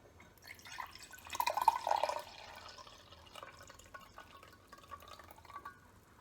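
Water pours into a glass measuring jug in a soft trickling burst that swells briefly, then settles into scattered faint drips and splashes, all quiet and close by.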